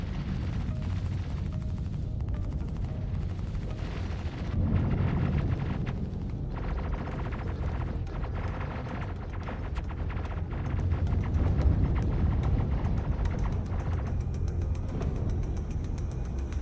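Video game battle with weapons fire and explosions striking a ship's shields, a dense, loud, continuous barrage of rapid shots and booming blasts that runs without letup.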